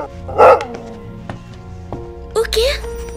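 Dog barks in a cartoon episode, a couple of sharp yips followed by a whimpering, rising bark, up close and loud, with faint background music underneath.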